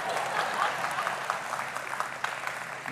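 Audience clapping at a gospel talk, a sustained dense patter of many hands at moderate level for about three seconds, with no clear voices standing out.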